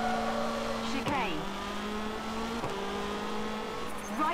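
A rally car in the WRC 2 game on a super special stage, its steady engine drone punctuated by a couple of sharp handbrake skids and shifts through corners, heard fairly quietly with no talk over it.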